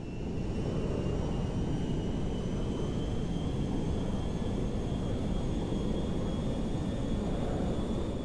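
Cargo jet engine in the GTA 5 video game, a loud continuous broadband roar with a steady high whine, constant and close throughout with no talk.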